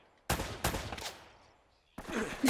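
Gunfire in the video game Uncharted: Drake's Fortune, three quick loud shots in a row, then a pause and another burst, close and alone with no talk.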